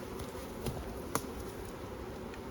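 Honeybees buzz steadily at an apiary hive as frames are worked, a soft continuous drone close by with a couple of faint knocks breaking through.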